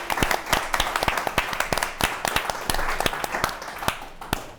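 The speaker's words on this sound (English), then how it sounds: "I think you should all give yourselves another round of applause" Applause from a podcast's live audience: sparse, distinct handclaps in an uneven patter, moderately close and fairly light, with no voices over it.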